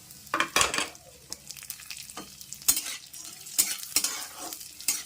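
Date paste frying in ghee while being stirred, a soft steady sizzle broken by repeated scraping strokes of a spoon against the pan, close and fairly loud, with no talking.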